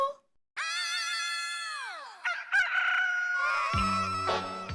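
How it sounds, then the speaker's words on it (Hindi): A loud rooster crows nearby inside a house, one long drawn-out call that bends downward, followed by clucking and a few sharp knocks, with a low rumble toward the end. "लगता है मुर्गा घर में घुस गया है।"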